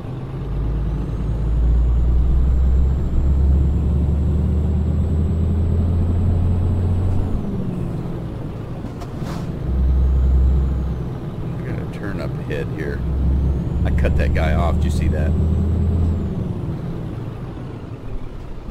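A large truck in Euro Truck Simulator passes with a loud, rumbling low engine drone that rises and falls, with a short hiss like air brakes near the end, under continuous talk.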